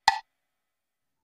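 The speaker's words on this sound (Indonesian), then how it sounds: "Kemudian ketuk blok yang berwarna merah." A red block pad on a Real Drum app kit is struck once, a short hollow knock that dies away almost instantly, followed by silence.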